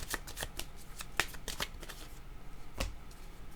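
Tarot cards being shuffled by hand, a series of quick riffling bursts and soft slaps repeating irregularly, close and clear with no voice over them.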